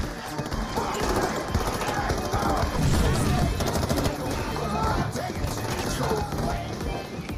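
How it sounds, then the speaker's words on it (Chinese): Heavy machine gun fire in a war action film battle scene, a dense continuous roar of rapid shots and blasts filling the whole stretch, loud and close with a busy, chaotic mix. "老黑的重机枪十分给力"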